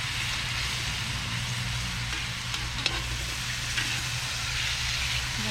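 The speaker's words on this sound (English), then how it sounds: "So the apples are going right in. Right on top of the squash. I'm going to go ahead and give this a stir." Apples and squash sizzle steadily in a pan over an outdoor cooking setup, with a spoon stirring through them in a few soft scrapes over the continuous frying hiss.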